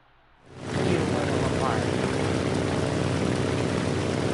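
A propeller plane engine in a survival video game roars up suddenly from near silence and then holds a loud, steady drone.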